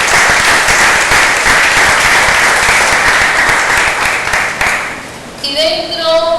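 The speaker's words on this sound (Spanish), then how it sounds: "¿Cuánto le da un fuerte aplauso al Señor?" Church congregation bursting into loud, sustained applause at a worship service, continuous dense clapping that fades slightly near the end as a voice returns over it.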